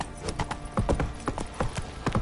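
Roach, the horse in the video game Witcher 3, clip-clops along in a steady run of hoofbeats, close and fairly loud over a soft background.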